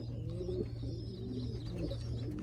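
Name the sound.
pigeons cooing in a breeding loft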